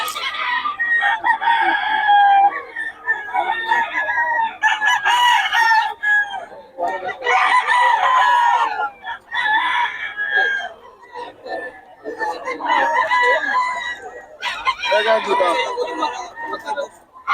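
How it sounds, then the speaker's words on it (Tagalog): Several roosters crow repeatedly, loud and close, one call after another with short gaps between them. "Solid mga manok ni Boss Joe."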